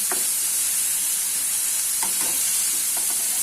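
Moong sprouts and garlic stir-fry in hot oil with a strong, continuous hiss and sizzle, and a few soft scrapes of stirring come through it, with no talking.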